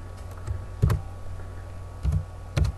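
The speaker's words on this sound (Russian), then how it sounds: "вводим это значение с клавиатуры." A few separate keystrokes on a computer keyboard while entering a value into a Pascal program, soft clicks spaced irregularly over quiet room tone.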